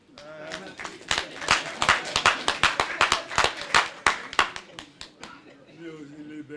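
An audience claps at a gathering with Osun monarchs present, loud, close and fairly steady for several seconds before fading, with voices underneath.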